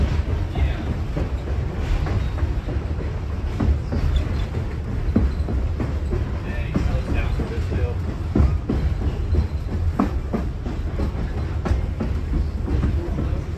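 Reading and Northern 2102 steam excursion train rolling on former Central Railroad of New Jersey rails toward Jim Thorpe: steady loud rumble of wheels on track with faint clicks throughout, heard from aboard the train.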